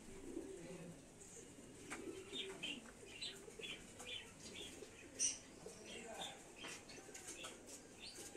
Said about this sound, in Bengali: এ হচ্ছে কবুতর